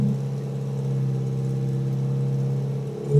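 A Subaru EJ20Y turbo engine running on ethanol idles with an exhaust leak, giving a steady, close, droning low rumble with a slight puffing pulse and a brief rise at the end.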